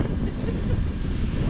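Steady, close wind buffeting the microphone on a boat at sea in about 16 knots of wind, with broad low rumble and a faint wash of water underneath, continuous throughout.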